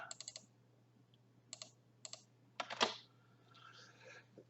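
Computer keyboard typing while entering an axis title in an Excel chart, short clustered bursts of clicky keystrokes with pauses between, close and fairly quiet over a low steady hum, no talking.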